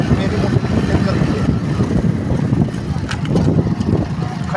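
A motorcycle rides along a paved village road, its engine a steady close low drone with wind rush and rumble throughout, a voice talking over it at times.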